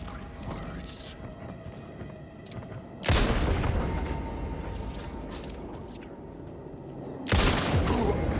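Pistol gunfire in the video game Alan Wake 2: two loud, sharp shots spaced several seconds apart, each with a long rumbling tail, over a busy game soundscape and talk.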